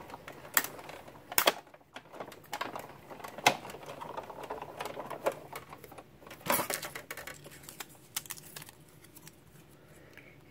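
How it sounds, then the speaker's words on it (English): A manual die cutting machine pressing foil between cutting plates with a metal die, giving close, irregular clicks and crunching snaps, a few sharp cracks standing out over quiet handling noise. "Put my cutting plate, my foil, my die, and another cutting plate, and let's go ahead and cut that."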